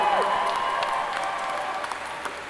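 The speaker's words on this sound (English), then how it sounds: "Can we get a round of applause for Dee?" A convention panel audience at MCM London Comic Con claps for an absent guest, a steady, moderately loud round of applause that slowly tapers over a couple of seconds.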